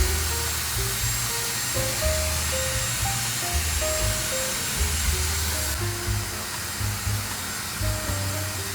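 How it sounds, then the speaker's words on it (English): A Dyson Airwrap hair dryer on low heat and high airflow blows a steady, loud whoosh of air with a constant motor whine, while soft music plays underneath. "we are going to use the Coanda smoothing dryer in the drying mode"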